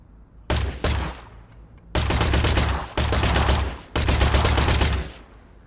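Pistol gunfire in the video game Industria: four loud, sharp shots, each ringing out with a long reverberant tail, spaced about a second apart, with no voices over them.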